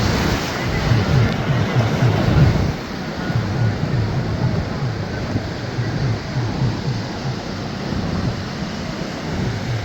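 Sea waves wash in on Karachi beach with a rolling, surging roar and gusty wind buffeting the microphone, the surf pulsing steadily throughout.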